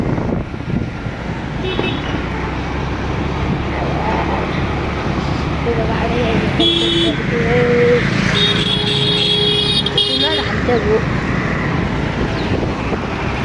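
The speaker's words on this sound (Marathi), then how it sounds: "पप्पा गाडी चालवतात." A car drives along a busy road in traffic, its steady engine and road rumble mixed with wind buffeting the microphone, with passing vehicles and horns faintly audible throughout.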